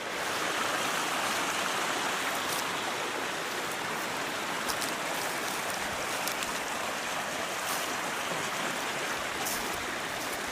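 Creek water flowing steadily over a cleared streambed, a dense continuous rushing and burbling wash heard close by, moderately loud and unbroken, with no talk.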